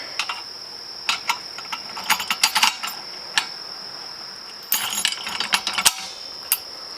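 A tube bender fitted with a 1 inch bend die works metal tubing in a fabrication shop, giving off irregular bursts of sharp mechanical clicks and ratcheting ticks over a steady faint background tone.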